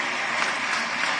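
An audience at a Madhya Pradesh government ceremony where land deeds are handed out breaks into applause, a brief, even burst of many hands clapping together, dense and fairly loud.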